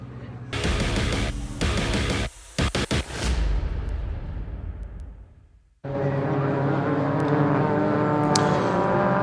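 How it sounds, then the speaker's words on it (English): Vertu Mini Challenge race cars at Croft on their green flag lap before a 15-minute race, engines droning loudly and steadily, fading away as the pack passes, then a fresh close engine roar holding strong. "The cars are out on their green flag lap, ready for this 15-minute race for the Vertu Mini Challenge Trophy."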